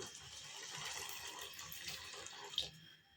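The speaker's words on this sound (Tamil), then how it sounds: "நம்ம தேவைக்கேற்ப தண்ணி சேர்த்திக்கலாம்" Water pours steadily into a pot of sambar in a continuous splashing stream, close by and fairly quiet, ending with a small clink near the finish.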